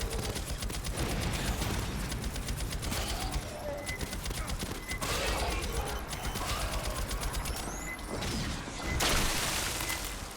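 Rapid, sustained minigun fire in the video game Aliens: Fireteam, a dense rattling roar that runs almost unbroken with brief pauses, mixed with other loud combat effects.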